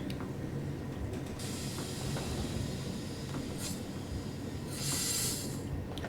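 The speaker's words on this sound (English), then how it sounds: "Oh, there's an intercity raring to go." A simulated intercity train in Train Sim World 3 on the Linke Rheinstrecke, a steady low rail rumble with hissing air bursts and a louder brake-like hiss near the end, no talking.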